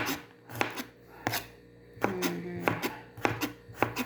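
A knife slices garlic cloves on a cutting board in sharp, close taps spaced roughly half a second apart with a few brief pauses, clear and distinct, with no talking over them.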